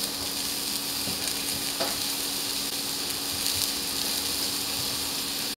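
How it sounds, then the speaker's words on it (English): Onions with red pepper flakes frying and crisping in a pan, a loud, continuous close sizzle with a few light stirring scrapes and no talking. "I'm gonna add my spices while this is still crisping a little bit and cooking"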